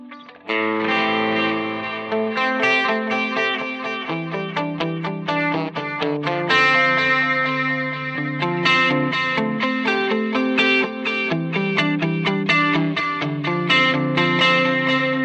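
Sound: Strymon Timeline D-Tape tape emulation delay preset

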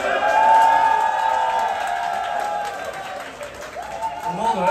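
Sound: crowd applause and cheering

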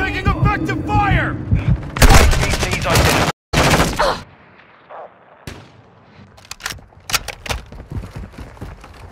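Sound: gunfire in the video game Warzone

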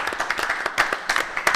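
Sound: audience applause

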